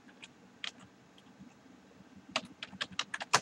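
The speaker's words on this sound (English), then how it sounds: "I'm typing right now on YouTube," Typing on a computer keyboard, a few scattered keystrokes at first, then a quicker burst of clicking keys close by, with no talk over it.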